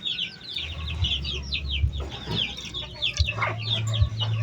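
Chickens cluck and chatter nearby in a lively, continuous flock, with busy overlapping calls over a low steady background hum, and no talking.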